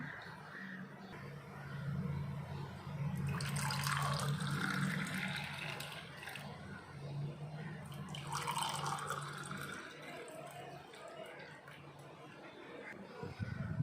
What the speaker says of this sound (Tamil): இதை நம்ம இப்போ ஒரு கிளாஸில் ஊற்றி